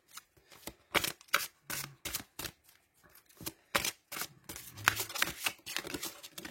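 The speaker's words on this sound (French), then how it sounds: "Je vais prendre une autre carte d'oracle." Oracle cards shuffled by hand, a run of quick, crisp riffling bursts with short pauses between them, close and fairly quiet, with no talking.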